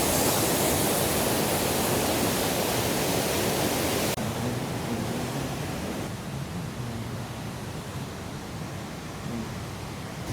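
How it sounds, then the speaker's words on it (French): Waterfall at the end of a hike to a cliffside lookout, a dense, steady roar of rushing water filling the whole clip, loud and close with no voices. "C'est fini, on est arrivé à la cascade"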